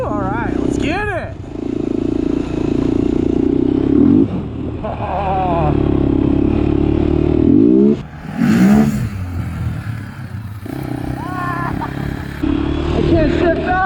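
Honda 400ex ATV engine on a warm-up lap, revving up and down in repeated bursts with rising pitch sweeps between shifts, close and loud, with brief clattering and a rider's voice in places.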